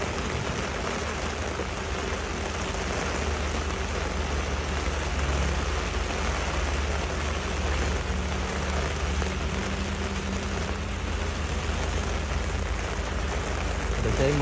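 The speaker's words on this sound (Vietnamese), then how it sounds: "Mình thấy mưa ngút luôn các bạn." Heavy rain from Super Typhoon Noru pours down in a dense, unbroken roar that holds steady and loud throughout.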